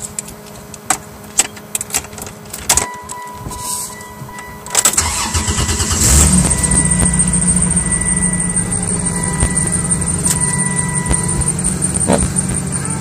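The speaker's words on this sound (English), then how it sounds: "And so we're gonna start this car." Keys jingle and click, then a 1995 Chrysler Intrepid's 3.3-liter engine cranks from cold and catches, revving briefly before settling into a steady, close idle.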